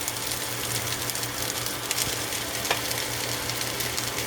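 Garlic and rice fry in a pan with a constant dense sizzle, overlaid with scraping stir strokes and a low steady hum, close and fairly loud, no talking.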